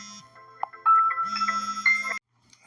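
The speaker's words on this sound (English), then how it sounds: "Hold on, now we got another phone call." A phone ringtone for an incoming call plays a short, loud electronic melody of bright repeating tones, then cuts off abruptly.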